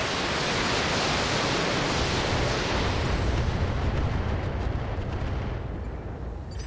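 Mech weapons in the BattleTech video game firing together as one loud, sustained roaring barrage that fills the whole span and fades slightly at the end, with no talk over it.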